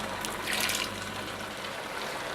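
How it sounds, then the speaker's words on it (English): Water is poured into a pot of Czech goulash, a soft splashing trickle that swells briefly near the start and then continues quietly, with no talking. "add a bit of water."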